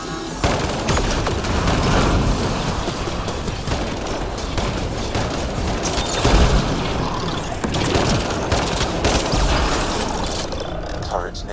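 Turret gunfire rattles through a combat scene in the video game Mass Effect Andromeda, sustained dense bursts with booms, mixed with game sounds and a voice speaking over the action.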